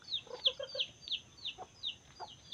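A chicken clucks several times in short, choppy bursts, fairly close, with a few softer clucks trailing off in a quiet setting.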